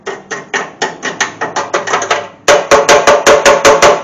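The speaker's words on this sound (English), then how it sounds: "I'm gonna have to get a hammer" A rapid series of sharp hammer blows on a rusty Gremlin car frame, ringing and evenly spaced, growing louder and more resonant in the second half.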